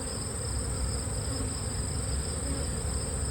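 Honey bees buzz steadily inside a hive treated with oxalic acid pads, a dense continuous hum held close and even throughout, with no talk.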